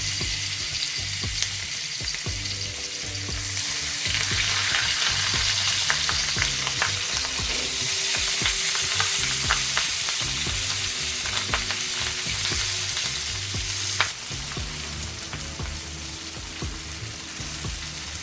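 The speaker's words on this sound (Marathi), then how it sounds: "आता आपण हे फ्राय करायला घेणार आहोत तेल टाकलेलं आहे आता आपण ही मच्छी ठेवणार आहोत याप्रमाणे" Fish pieces fry in oil on a hot tawa, wrapped in banana leaf, giving a continuous loud sizzle with crackling pops and occasional stirring or scraping of the pan, steady throughout with no voices.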